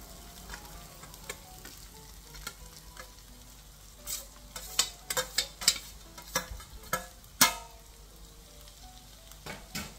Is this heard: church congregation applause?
no